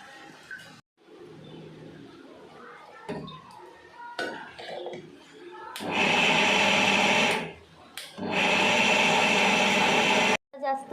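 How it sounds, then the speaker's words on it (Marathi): A kitchen mixer grinder churns soaked wheat with a little water, first a quiet stretch with someone speaking, then two loud, harsh whirring bursts of several seconds each, separated by a brief pause. "गहूमुळे मिक्सरमध्ये असं आवाज येतो"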